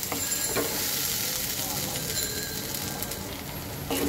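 Fish, a flat-bodied bele, cooks with halved tomatoes in a pan and no added water, giving a dense, close sizzle with stirring scrapes throughout.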